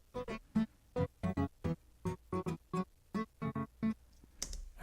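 An electric guitar processed through a pattern gate to mimic a funky clavinet, chopped into a string of short, clipped rhythmic stabs about two or three per second. It plays alone, with no talking, and ends in a brief noisy burst.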